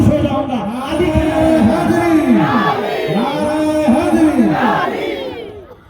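A large crowd at a religious gathering shouts the slogan Naara-e-Haidari, Ali in loud, rhythmic unison, with repeated swelling calls that fill the whole clip.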